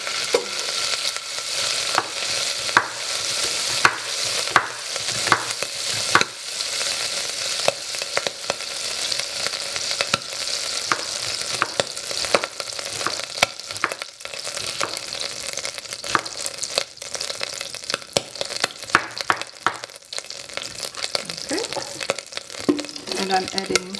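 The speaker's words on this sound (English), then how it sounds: "Let me already heat the pot and throw in the butter" Butter sizzles in a hot pot on the stove, a continuous crackling fry with frequent clicks and scrapes of stirring, close and fairly loud.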